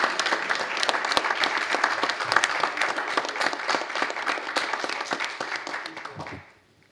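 An audience at a village board meeting claps in a full, dense round that stays steady for several seconds, then tapers off and stops near the end.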